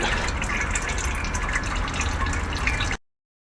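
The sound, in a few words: gearbox oil draining from VW Crafter after drain plug removed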